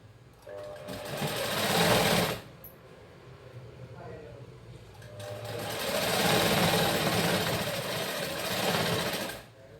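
Sewing machine stitching cross-cut blouse cloth runs in two loud bursts of rapid whirring, a shorter one near the start and a longer one later, with a quieter pause between them and no talk.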